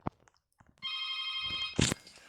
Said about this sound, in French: Il y a quelqu'un qui sonne chez moi vu que je suis dans un appartement.